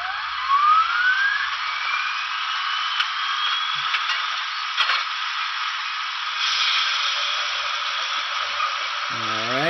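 A model locomotive's sound startup sequence: a rising electronic whine sweeps upward, then settles into a steady, sustained mechanical hum with faint clicks, ending with a low rumble starting up.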